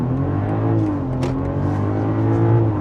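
A BMW X3 M50 engine gives a steady, loud drone from inside the cabin as the SUV accelerates. The engine note rises gradually and comes through without any talk over it.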